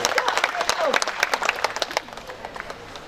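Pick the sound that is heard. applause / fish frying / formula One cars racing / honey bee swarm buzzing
applause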